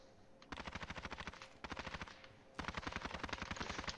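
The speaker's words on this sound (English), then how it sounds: "I hope he's shooting at me." Rapid automatic gunfire in the shooter game Modern Warfare, with a FAL rifle involved: three quick, loud bursts of evenly spaced shots, the last one longest and heaviest.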